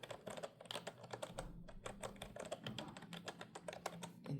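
Typing on an Adesso AKB-450UB ergonomic keyboard: a soft, quiet stream of rapid key clicks and taps, close up, with no talking.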